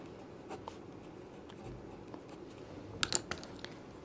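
Writing on a classroom board during a maths lesson on simultaneous equations, a few short scratchy strokes and taps near the end over quiet room noise, with no talk.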